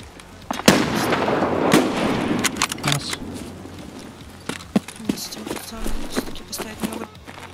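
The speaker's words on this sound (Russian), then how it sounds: "Вот там, где взрыв." Explosion and gunfire in the shooter game Escape from Tarkov: a loud blast near the start trails into a rumbling decay, followed by scattered sharp shots at a distance, with occasional talk over the top.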